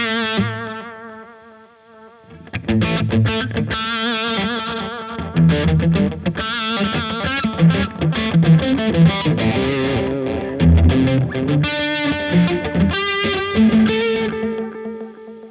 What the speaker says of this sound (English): So for this demonstration, I'm going to use the flashback by TC Electronics. Great echo, by the way. It's on the tape setting.